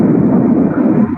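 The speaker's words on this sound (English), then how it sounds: "There was also a confirmed ground explosion in Taganrog in that clip as well." Ground explosion in Taganrog relayed through a played news clip: a loud, sustained low rumbling roar that stays heavy for about a second before easing slightly at the end.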